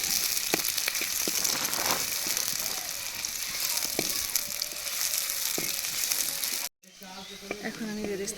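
Sliced onions sizzle in mustard oil over a wood-fired stove, a steady close hiss with scattered pops and clicks, broken by a brief cut before the frying continues.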